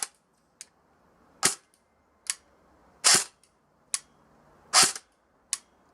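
A budget airsoft rifle's clicky, stiff trigger pulled rapidly, giving sharp isolated clacks and pops at irregular intervals, close and loud against near silence.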